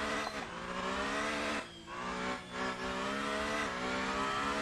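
A race car driven hard in a Pikes Peak hill climb video game, the engine revving loud and close with rising pitch sweeps, brief dips between gear changes and bursts of acceleration.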